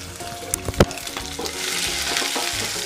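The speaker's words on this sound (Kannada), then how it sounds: "ಈ ಕಾದಿರುವಂತಹ ಎಣ್ಣೆಗೆ 1 medium sized ಈರುಳ್ಳಿನ ನಾನು ಹಾಕ್ತಾ ಇದ್ದೀನಿ." Sliced medium onion dropped into hot oil in a pan, bursting into a steady loud sizzle with a few clatters of stirring early on, frying continuing alone without talk.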